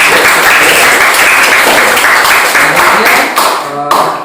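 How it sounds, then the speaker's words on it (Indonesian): A classroom group claps together in steady, loud, dense applause for several seconds, then it thins out and ends. "berikan aplaus buat kita semua"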